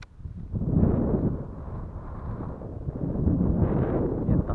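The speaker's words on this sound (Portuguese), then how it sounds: "Vento tá forte hoje aqui." Strong wind buffets the microphone outdoors at a fishing spot, a loud continuous low rumble that swells and eases over several seconds, with no talk.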